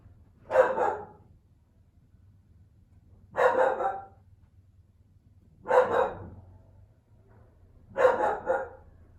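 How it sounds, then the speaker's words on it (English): A dog barks four times in short bursts at roughly even intervals, fairly close and clear, over a faint low background hum. "My dog is definitely taking me out of the zone. You know, he's barking."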